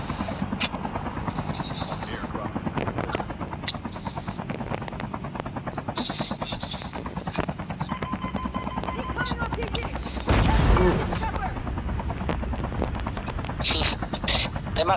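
Gunfire in a shooting video game: rapid, continuous cracks of shots under a steady droning engine-like background, with a louder burst midway, fairly close and dense.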